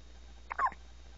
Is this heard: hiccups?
yes